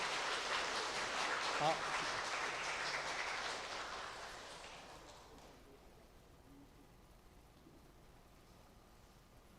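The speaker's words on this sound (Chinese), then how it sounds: "我们用最热烈的掌声来欢迎师母" Audience applause fills a hall at a church gospel lecture, a dense patter of many hands that swells, then fades away over several seconds, with a brief spoken word near the start and quiet room tone after.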